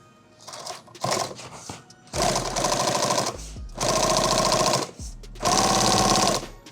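A sewing machine stitches a hem on a heavy eight-mag war bag, running in three loud bursts of rapid, steady stitching separated by short pauses and handling noises.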